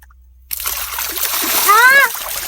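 Water splashing as people bathe in a stream, a sudden loud burst of splashing after a short silence, with children's voices calling over it.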